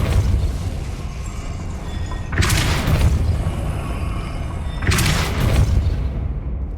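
Two heavy booming bursts of the Depulso spell in Hogwarts Legacy, each a loud whooshing blast spaced a few seconds apart over a steady rumbling game ambience.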